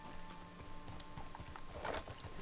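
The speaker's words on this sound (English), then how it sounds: "my horse's name is Mercer" Horse hooves clip-clopping in Red Dead Redemption 2, a steady run of soft hoof beats at moderate distance, with a brief louder burst of noise near the end.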